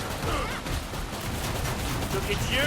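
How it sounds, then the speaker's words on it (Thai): Rapid shotgun blasts from Killing Floor 2 zombie-shooter combat, a dense continuous barrage of loud overlapping shots and crashes with faint game effects. "ลูกซองเราเนี่ยยิงรัวก็จริงนะครับผม"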